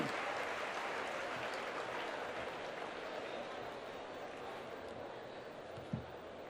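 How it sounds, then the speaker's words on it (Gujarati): Audience applause welcoming a guest, the managing director of PGVCL, at a Gujarati talk on succeeding in board exams, a steady wash of clapping heard from a distance with a faint thump near the end. "જોરદાર તાળીઓથી આપણે એમને વધાવીએ છીએ."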